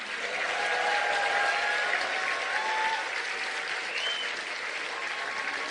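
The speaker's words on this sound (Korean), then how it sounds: "박수 부탁드립니다." Sustained audience applause fills a Korean corporate lecture hall as a bouquet is presented on stage, a dense, steady wash of many hands clapping at even loudness throughout.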